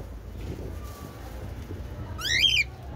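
A cockatiel gives a short, shrill chirping call near the end, rising and falling, over a quiet background murmur.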